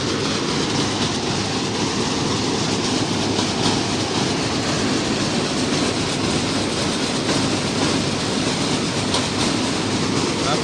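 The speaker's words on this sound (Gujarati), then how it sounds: "બોતેર પચાસ ટ્રેક્ટર છે ચેલેન્જર ચામુંડા ટ્રેક્ટર છે" A Challenger Chamunda 7250 tractor drives a farm thresher, producing a loud, continuous, dense mechanical roar and rattle that holds steady throughout without pauses.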